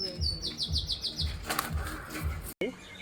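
Pigeons at a breeder's house in Ashoknagar give a run of repeated bright chirps and calls close by, over soft low rhythmic sounds, ending with a brief break.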